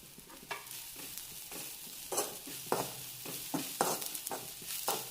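Sliced drumstick (shevga) pieces roasting in a pan over low flame: a soft, steady sizzle broken by repeated sharp stirring scrapes at a loose, regular pace.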